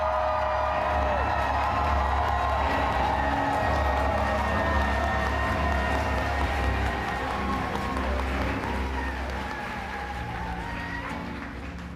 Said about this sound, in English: can we get a huge scream, round of applause?